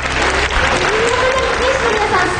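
Crowd applause at an arena fan appreciation event for the Link Tochigi Brex, honouring a player after he served as MC, a dense, loud, continuous roar of clapping with a voice speaking over it.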